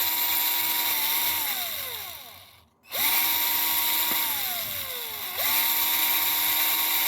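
A power drill with a 1/8 inch bit bores holes for bolts, its high whine steady and close, sagging in pitch under load, cutting out briefly, then spinning up again for a second pass.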